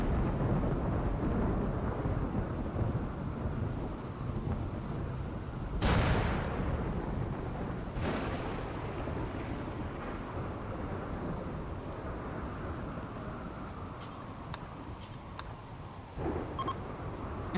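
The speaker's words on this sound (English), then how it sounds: "Is it a flash storm?" A flash storm in a video game brings rain hissing steadily throughout, broken by a sharp, loud thunderclap and a second crack of thunder that rumble away.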